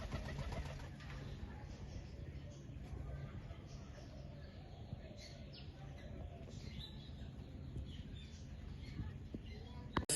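Pet pigeons at a home coo steadily in soft, low, overlapping calls, with occasional chirps in a continuous close background.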